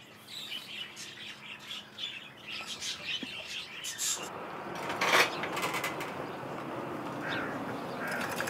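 Kept pet birds in a small village shed call and squawk, with chirps and harsh caws coming in bursts over a steady background.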